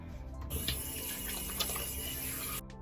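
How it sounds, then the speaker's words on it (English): Lukewarm water running from a tap into a sink as a face is rinsed, a steady close rush with small splashes that stops abruptly at the end. "I rinse my face with lukewarm water"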